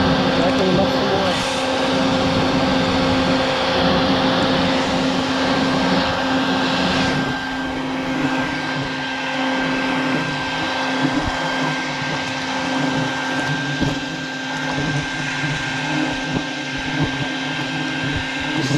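A vacuum sucking bald-faced hornets out of a nest entrance, a loud steady motor whine and rushing air throughout, close, with talk over it.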